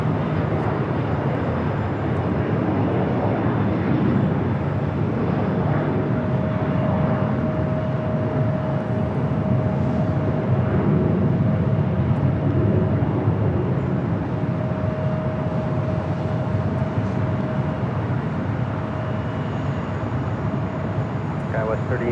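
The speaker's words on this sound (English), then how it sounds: "This arrival is United Express 5522 coming in from Sacramento on the E175." An Embraer E175 jet operated as United Express arrives at LAX, its steady broad engine roar holding evenly throughout at a moderate distance, with a faint constant whine over the rumble.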